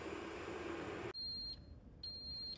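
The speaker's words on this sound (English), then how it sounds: "It's beeping. It's done." A Ninja Coffee Bar coffee maker signals the end of brewing with clear electronic beeps, two sustained high tones separated by a brief gap, following a loud burst of brewing noise that cuts off abruptly.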